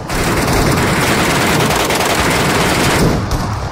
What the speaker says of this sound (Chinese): 枪声就在前面